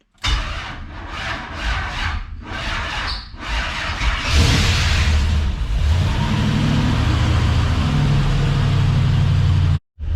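An LS-swapped square body truck cranks in several rhythmic starter bursts, then catches with a squealing roar and settles into a loud, steady close-up idle that cuts out briefly at the very end.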